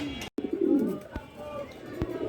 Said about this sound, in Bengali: সুপ্রিয় দর্শক একজোড়া লোটন আছে দেখেন মার্শালা খুবই সুন্দর